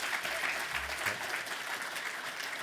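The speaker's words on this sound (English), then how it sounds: "I'd just like a round of applause again for all of the young people here" Applause from the audience at The Body Shop Someday Awards 2017, a fairly quiet, even wash of many hands clapping with no voices over it.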